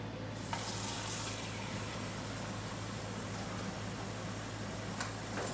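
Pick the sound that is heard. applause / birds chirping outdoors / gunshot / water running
water running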